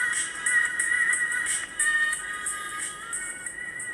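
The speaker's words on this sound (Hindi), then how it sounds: "अभी हम उस सॉन्ग को प्ले करते हैं।" A song plays through the small speaker of a Q18 smartwatch, thin and tinny with a bright, narrow tone, quiet and steady throughout.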